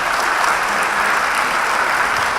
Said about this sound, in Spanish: Despidámoslo con un fuerte y caluroso aplauso.